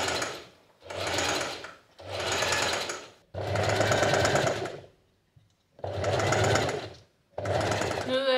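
A sewing machine stitches a ruffle seam on a blouse in repeated bursts of steady, close mechanical whirring and needle thumping, each run lasting about a second or two with brief pauses between them.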